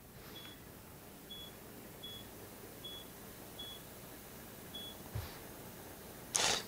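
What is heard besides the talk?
360 camera beeping while taking three bracketed HDR photos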